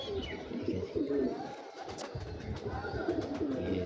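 An elderly female Hercules pigeon coos nearby, with low throaty rolling calls repeating against a busy background of other birds and faint murmuring.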